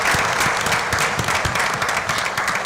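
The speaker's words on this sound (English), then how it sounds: "So could we get one more round of applause for our music program at Tunkhannock?" Loud, close crowd applause for a school music program at a Tunkhannock school board meeting, dense clapping sustained evenly throughout.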